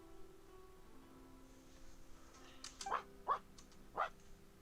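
Short dog yips and whimpers from a video game, three brief high cries spaced about half a second apart over quiet ambient music, fairly faint and alone.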